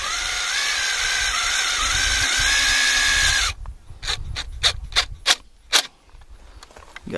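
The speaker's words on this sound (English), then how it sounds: "And now we just have to kind of screw it in the bottom here so it doesn't go anywhere." A power drill drives self-tapping screws into the base of an artificial fish habitat structure. A steady, loud motor whine runs first, then gives way to a series of sharp clicking bursts.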